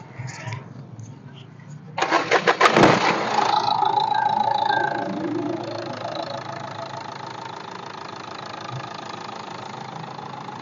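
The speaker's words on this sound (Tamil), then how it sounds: "இப்போ வண்டியோட சவுண்டை பத்தினா நீங்க லைவா கேளுங்க" A Renault Duster's engine cranks and catches with a sharp burst, then settles into a steady, close idle that holds to the end, with some rattle in the first seconds.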